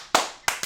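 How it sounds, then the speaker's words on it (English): Three sharp hand claps close by, the first alone and the last two in quick succession, with no talking. "Claps on point."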